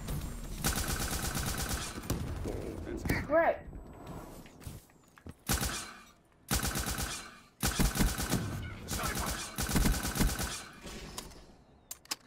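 Player's gun in a video game firing in rapid bursts, loud and close, with several sustained volleys separated by short pauses, mixed with mechanical clatter.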